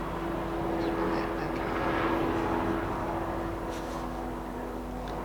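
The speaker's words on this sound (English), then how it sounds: "there's a big helicopter outside" A big helicopter flies outside, a steady low droning rumble that swells and eases slightly throughout, heard from indoors at a moderate distance.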